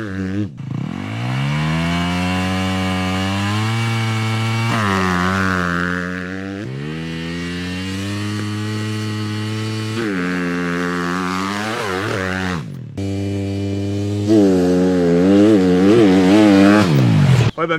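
Motocross motorcycle engines revving hard at a race start, a loud sustained four-stroke roar with rising and falling pitch as gears shift, dropping briefly and surging again several times, no talk.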